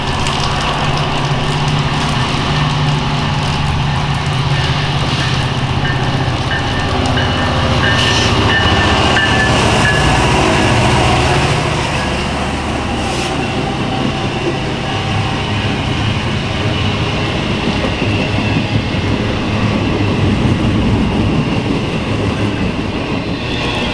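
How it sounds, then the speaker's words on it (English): Norfolk Southern eastbound freight train led by ES44AC and Tier 4 GEVO locomotives rolls past close by: a loud, continuous rumble and rail clatter holding steady throughout, with faint metallic squeals above it. "the eastbound came through with a very good lash up for modern Norfolk Southern standards"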